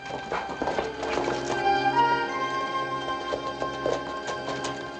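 Horse hooves clopping irregularly at moderate distance in a Western movie, mixed with a musical background and some scattered movement noise.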